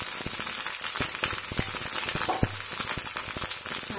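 Eggs and rice frying in oil in a pan for Chinese restaurant-style egg fried rice, giving a steady, close, continuous sizzle and crackle with scattered sharp pops and spatters, and no voices over it.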